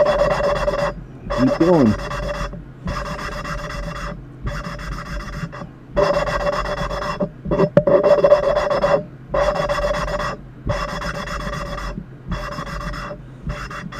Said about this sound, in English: And grind it down until it gets quieter again.